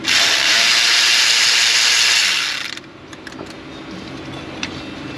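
A wrench loosens a 12 mm adjuster bolt on a 2000 Nissan Pathfinder 3.3, a loud rapid ratcheting whir for about three seconds, then it stops and a few faint clicks and taps follow.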